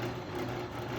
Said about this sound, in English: Start out drilling very lightly so that the brad point bit can cut across those fibers that are sitting at an angle